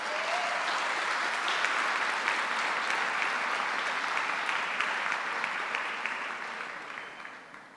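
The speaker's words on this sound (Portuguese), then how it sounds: "Você pode aplaudir o nome do Senhor" A church congregation applauds steadily during a sermon, a dense, continuous clatter of many hands that holds for several seconds before gradually thinning out toward the end.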